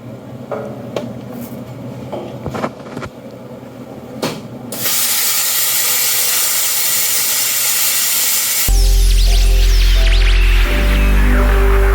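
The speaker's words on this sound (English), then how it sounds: "So now we're going to cut these inside plates and everything should be liberated." Inside mounting plates of the D-ring mounts being cut off a Jeep YJ rock-crawler bumper: a loud, continuous roaring hiss that runs for several seconds, then shifts to a steady humming drone, with no talk.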